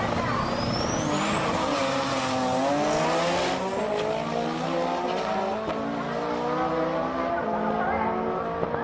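A drag racing car's engine screams as it revs up through the gears at a Japanese drag meet in Sendai, rising pitch sweeps repeating, loud and close, with a second car's roar, a Red Zone Supra, blending in.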